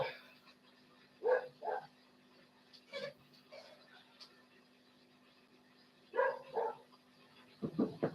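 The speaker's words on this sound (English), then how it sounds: "That's my dog out there going off. I really don't know what they're barking at." A few short barks sound in scattered bursts at a distance, fairly faint, with quiet stretches between them.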